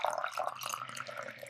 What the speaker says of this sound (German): Ich gieße Wasser ein.